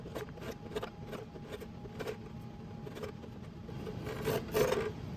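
Hand tool cutting wood with skewed slicing strokes during chair making, a repeated rasping scrape at a steady rhythm, close and moderately loud, growing a little stronger toward the end.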